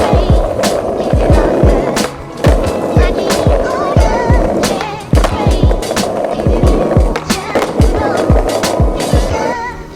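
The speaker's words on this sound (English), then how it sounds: "So that's Fakie Bigspins." Skateboard doing fakie bigspin tricks, with loud rolling wheel rumble throughout broken by repeated sharp board pops and landing clacks, close and dominant with no talking.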